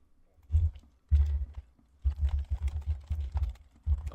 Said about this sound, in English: Oh God, you're typing again.